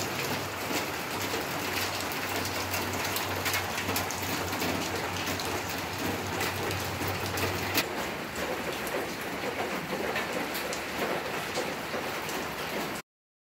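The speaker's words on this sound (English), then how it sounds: "It hasn't stopped raining." Heavy rain from Tropical Storm Gordon pours steadily and densely on surfaces nearby, a continuous loud hiss with scattered sharper drops and no voices.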